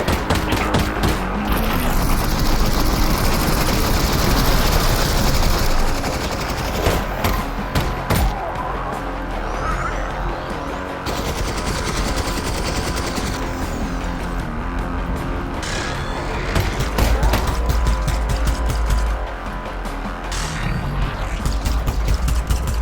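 A towering Strider in Half-Life: Alyx firing after tearing away a wall: loud, sustained rapid heavy gunfire and booming impacts with rumbling destruction, pausing briefly between volleys over about twenty seconds.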